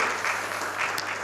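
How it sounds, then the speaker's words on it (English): Audience applause at a breakfast meeting, steady dense clapping filling the room without pause, fairly loud and close, no voices over it. "Let's clap for that, please"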